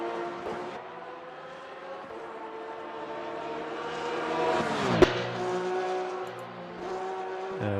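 Race car engine on the Nürburgring Nordschleife in a racing video game, a steady loud drone with stacked harmonics that rises in pitch as it accelerates, with a sharp click near the end, no voices.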